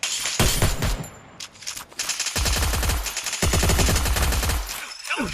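Rapid automatic gunfire from the Free Fire battle game rattles out in dense bursts, broken by brief pauses, with a loud close shooting sequence near the end.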